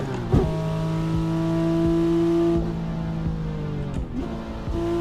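A car engine in a driving simulator hums steadily with sustained tonal drones that shift in pitch, punctuated by a few sharp transient clicks, with no one speaking.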